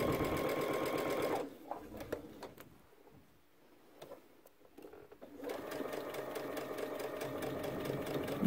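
A sewing machine stitches a seam along the top flap of a backpack, running in a fast steady mechanical clatter, pausing briefly for a few quiet seconds, then starting up again loud and close.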